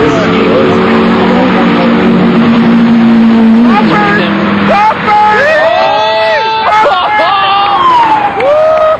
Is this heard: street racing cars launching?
yes